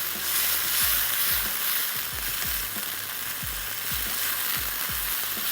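Prawn masala with ketchup and soy sauce sizzles loudly in a pan while being mixed, with a continuous bright fry hiss and repeated dull knocks of the spoon against the pan.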